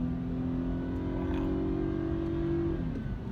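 A BMW sports sedan engine revs up and holds a steady, droning pitch for a few seconds before easing off, loud and close with no talking over it.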